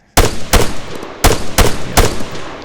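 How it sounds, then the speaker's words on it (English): Gunfire from a weapon in the video game ArmA 3, with five sharp, loud reports in an uneven rhythm and brief echoing tails between them. "Start shooting the gun here. You can see the action of the weapon, very crisp."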